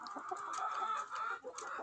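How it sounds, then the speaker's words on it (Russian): Mixed-breed young hens clucking in an outdoor enclosure at evening feeding, several birds chattering continuously and close by, with no talk over them. "Мы в вольере вот у миксовых курочек"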